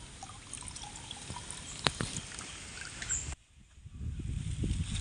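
Water drained off during village-style cooking trickles and drips faintly nearby, a soft pouring sound with a few sharper drops, then a short quiet gap before the trickle resumes.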